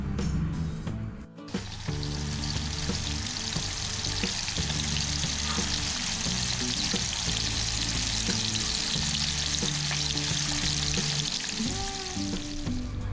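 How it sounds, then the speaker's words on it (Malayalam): Deboned fish frying in hot oil for a noodle fish roll snack, a dense continuous sizzle and crackle with occasional clinks of utensils, loud and close throughout. "ഫസ്റ്റ് നമുക്കിതൊന്ന് ഫ്രൈ ചെയ്തെടുക്കാം"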